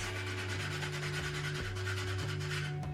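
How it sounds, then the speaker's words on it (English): Sandpaper rubbing steadily back and forth across a wooden eyebox, a continuous dry rasping texture with a low tonal hum running underneath, close and fairly quiet. "I'm a little too OCD to do a file, so I take my time and use sandpaper."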